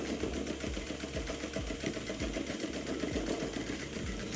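A sewing machine runs close by, stitching fabric with a steady, fast mechanical whir and rapid needle clatter throughout, no voices.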